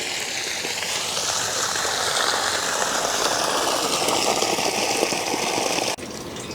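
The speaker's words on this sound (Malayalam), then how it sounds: "പ്രോപ്പർ വേസ്റ്റ് വെള്ളം നമുക്ക് പുറത്തേക്ക് പമ്പ് ചെയ്ത് കളയാൻ പറ്റും" A V-Guard 1HP VSWS-F25US sewage pump pumps out waste water with a steady, loud, rushing whir that holds for several seconds before it abruptly drops off.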